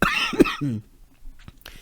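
A single short cough up close, followed by a throat-clearing sound, then quiet breathy noises.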